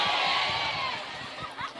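A crowd at an outdoor religious lecture in Eretan Wetan, Indramayu, claps and cheers in a dense, continuous wash of noise that fades slightly toward the end.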